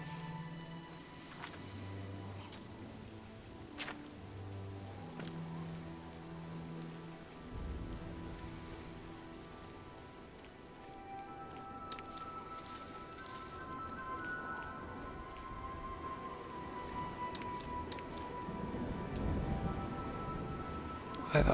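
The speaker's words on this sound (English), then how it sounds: "I thought the rain was letting up." Steady rain falls on surfaces in The Elder Scrolls IV: Oblivion on the road to Kvatch, a continuous hiss with scattered droplet patter and soft music tones underneath.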